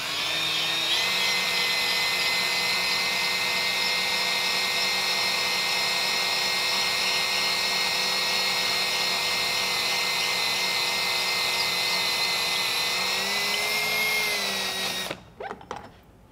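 A scraping tool works the end of an Aquatherm pipe in preparation for electrofusion, giving a loud, steady motorized whine that holds for about fifteen seconds before cutting off abruptly.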